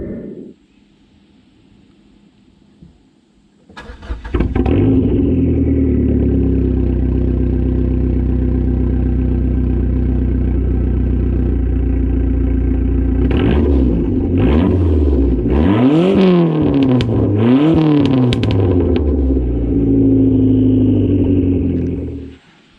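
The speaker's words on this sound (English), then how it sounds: "let's take a listen to the exhaust on an SRT4." A 2004 Dodge SRT4 with a 2.4-liter four-cylinder starts up and idles loudly, then its exhaust is revved in several sharp rising and falling bursts before cutting off, heard close with no voices.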